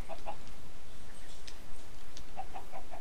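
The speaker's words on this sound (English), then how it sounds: "Whoa, we have 4 chickens." Chickens cluck in the Minecraft video game, short clipped calls at the start and a run of four quick clucks near the end, over steady background noise.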